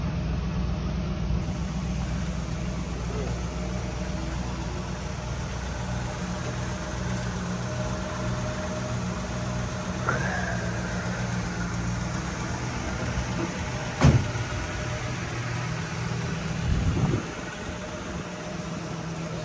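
A 1967 Ford Mustang V8 idling after a carburetor change, a steady low rumble throughout with a brief rev blip near the end, close and even.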